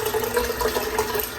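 Badger shaving brush swished and rinsed in cold water, a soft, short burst of close sloshing and dripping with a light bubbling texture.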